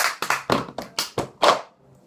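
Cup song rhythm played by hand: seven crisp, close claps and taps of cups set down on the floor in an even, quick beat. The final hit rings slightly longer before silence.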